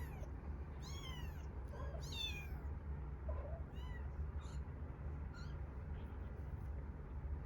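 A kitten cries in a string of thin, high mews, several in quick succession early on, then fainter, sparser calls over a low background rumble.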